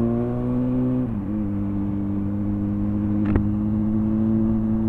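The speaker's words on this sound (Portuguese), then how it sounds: "A tiazinha tá acelerando com gosto, hein?" Engine of a car accelerating in traffic, heard from a Honda CB600F motorcycle: a loud, steady droning hum that dips briefly and settles, with a short sharp knock near the end and no talking.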